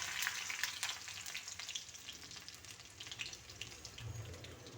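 Ginger and garlic frying in oil with mustard seeds and fenugreek for a cucumber curry, a steady close hiss and crackle of sizzling that runs unbroken with no voices.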